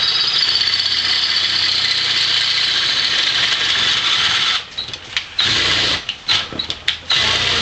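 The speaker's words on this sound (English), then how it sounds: "Now I just have to drill some bigger holes." A cordless electric drill whirs steadily while boring bigger holes through a metal bracket, with brief stops and restarts near the end as the trigger is released.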